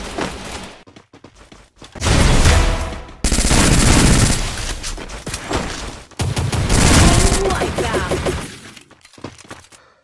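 Gunfire in the Free Fire battle royale game, with long loud bursts of rapid automatic shots in two sustained volleys, separated by brief quieter gaps with scattered cracks.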